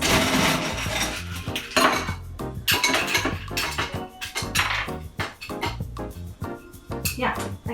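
Ice cubes clattering and clinking into a glass for a Bloody Mary cocktail, a rapid run of loud, close knocks and rattles.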